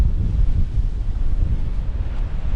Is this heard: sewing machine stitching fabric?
no